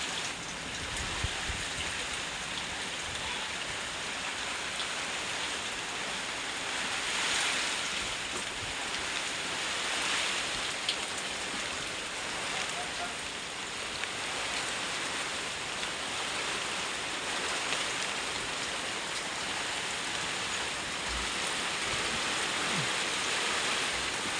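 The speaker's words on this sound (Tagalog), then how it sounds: "Ayan sobrang lakas ng ulan." Heavy tropical downpour pounding steadily outside a house, a dense, unbroken roar of rain that stays loud and even throughout with no voices.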